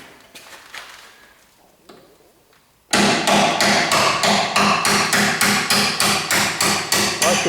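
A hammer drives a punch against a bolt on a split-window coupe chassis. After a few light taps, about a dozen loud, evenly spaced metallic blows ring out close by.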